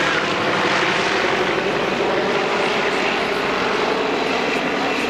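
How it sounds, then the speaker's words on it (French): A Junkers Ju 52 propeller aircraft flying at low speed, around 110 km/h, at an airshow, giving a steady, loud, continuous engine drone with propeller throb that holds level throughout, with no speech. "Regardez le J52 à basse vitesse et entendez le J52 à basse vitesse."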